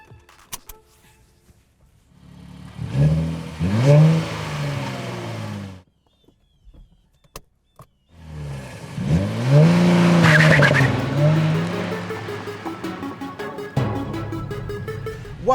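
A 2023 Nissan Z sports car with a manual transmission pulls away and accelerates in two strong bursts, its engine note rising through the revs and dropping off between them, with a quiet pause in the middle.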